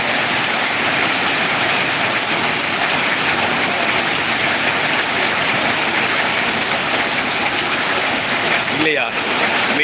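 Heavy rain pours down steadily in Ariyalur, a loud continuous broadband hiss of rainfall that holds throughout, with a brief voice near the end.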